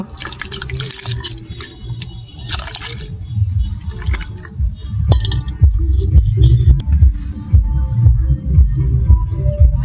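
Washed lentils tipped into a pot of boiling water at an outdoor picnic cooking spot, giving close watery splashes and drips over a steady bubbling rumble, with no talk.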